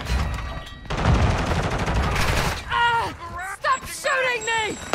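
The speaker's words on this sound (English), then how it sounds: "Stop shooting me!" A first-person shooter video game, with a loud rapid burst of automatic gunfire in the first half, then game voice lines and chatter take over.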